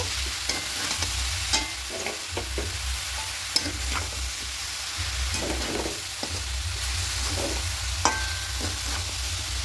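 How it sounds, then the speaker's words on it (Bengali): Vegetarian cabbage ghonto being stirred in a pan, repeated scraping strokes of a spatula over a low sizzle, close and steady with no talking. "এবার খুব ভালো করে মিশিয়ে নেব।"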